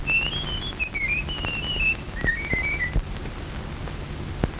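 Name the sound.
man whistling a tune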